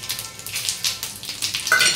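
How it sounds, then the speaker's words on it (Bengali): Cumin seeds and a bay leaf sizzle in hot oil in a wok, a crackling, spitting fry heard close up, with brief louder bursts and no talk. "তেলটা গরম হয়ে গেছে, এবার দিয়ে দেবো সাদা জিরে, দিয়ে দেবো তেজপাতা"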